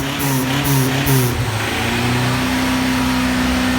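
A Tofaş car engine with a failed crankshaft bearing revs on the throttle up close, its loud drone climbing and dropping in pitch before settling into a steady, higher hold.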